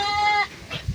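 A goat bleats once, loud and close, with a wavering nasal tone, in a pen behind a house on a small farm, followed by faint rustling and shuffling.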